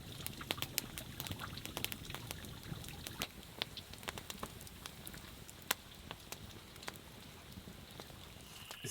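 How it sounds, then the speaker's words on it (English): Light rain falls in the Australian bush near a small rock overhang, a faint, steady patter of scattered drops with occasional sharper ticks, with no voices. "So hopefully it's just light rain and I can just relax here a bit."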